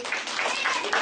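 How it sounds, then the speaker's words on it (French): Audience applause at a live Christmas stage show for children, a dense, steady wash of many hands clapping together for about a second, with a voice faintly present in the mix. "on peut vous applaudir"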